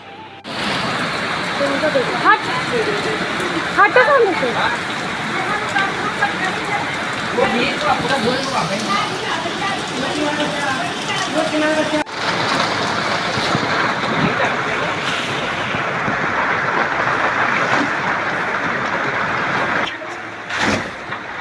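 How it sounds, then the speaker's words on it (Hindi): Heavy rain pours down suddenly in a steady, dense hiss on surfaces outdoors, loud and continuous, with faint voices occasionally under it. "अचानक से बहुत तेज़ से बारिश होने लगी"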